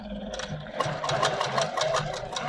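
A sewing machine stitches in a quick, even, rattling rhythm at close range, with a low motor hum beneath it.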